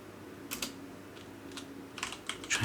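Keystrokes on a computer keyboard while entering POV-Ray scene code, a few short bursts of clicks in quick clusters at close range, with no talking.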